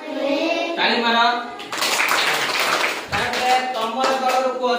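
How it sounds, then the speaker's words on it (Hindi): Children clap their hands in a classroom Odia lesson, with a burst of quick clapping breaking in between stretches of spoken voices. "ताली मारो"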